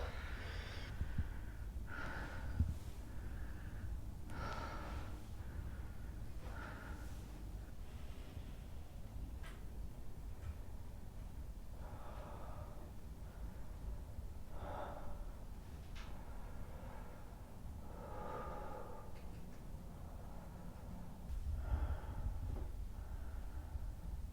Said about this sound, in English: Try to slow your exhales down. Big breath in, long exhale.